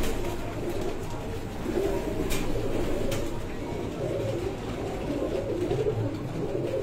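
A Moti pigeon on a rooftop loft coos in soft, repeated low calls over a steady background hum, with faint voices and a couple of brief sharp noises.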